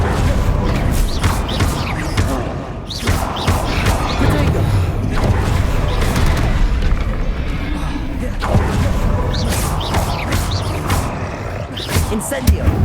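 Confringo explosion spells in Hogwarts Legacy: loud, close blasts and crashes burst out repeatedly over a constant rumbling, chaotic din, with a few sharp impacts near the end.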